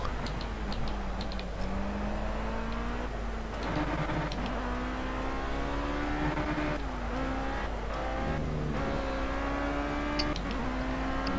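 A Formula C race car in the Project CARS video game on Xbox One screams through its gears, the engine pitch climbing and dropping with each shift and corner, loud and continuous with occasional tire squeal.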